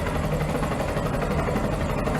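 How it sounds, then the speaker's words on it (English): Helicopter in the adventure game Secret Files 2: Puritas Cordis, a loud, continuous rotor thrum with a heavy low engine drone that holds steady throughout. "Is that a chopper?"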